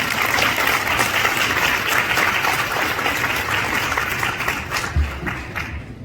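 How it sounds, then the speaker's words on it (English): Sustained applause from an audience at a Hindu organisations and temple associations Raksha Bandhan event, a dense steady clapping that fills the whole clip at fairly loud level. "I think they deserve another big round of applause,"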